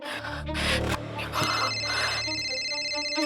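A phone rings at home with an electronic, tonal ringtone that starts after a short scrape or rub and continues steadily through the rest.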